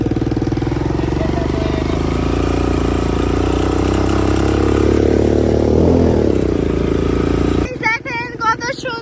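An ATV quad bike engine drones steadily while a family rides along the beach at Cox's Bazar, a continuous loud mid-pitched hum that cuts off near the end, leaving brief bursts of talk.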